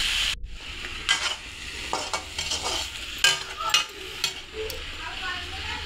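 Pointed gourd, potato and tomato are stirred in a pan, with scraping strokes of a utensil over a soft sizzle, several stirs in quick succession.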